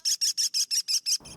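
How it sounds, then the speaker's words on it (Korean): A kestrel call played back to a flock of pigeons in the city: seven rapid, evenly spaced shrill notes, loud and close, then cut off into faint background noise. "마지막으로 모여있는 비둘기들한테 천적 황조롱이 소리를 들려줘 봤는데요."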